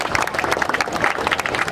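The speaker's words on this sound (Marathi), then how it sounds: "जोरदार जरा टाळ्या होऊन जाऊ देत" An audience at a Sawantwadi friends' circle event gives a short burst of applause, a brief, dense spatter of claps heard alone.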